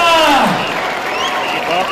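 A festival crowd in a town square applauds the Santa Coloma devils, a steady wash of clapping with voices and shouts rising over it.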